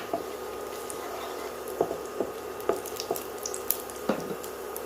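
Raisins frying in hot ghee in a pan while making a semiya and carrot sweet, giving a steady soft sizzle with scattered small pops and crackles, close and fairly quiet, with no talking.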